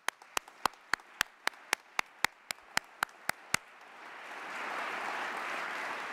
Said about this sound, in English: I want to applaud our partners.